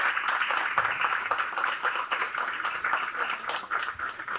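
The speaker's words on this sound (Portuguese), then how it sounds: "Salva de palmas ao Gilson." A crowd at a public gathering in Brazil gives a sustained round of applause, dense and even throughout with no pauses.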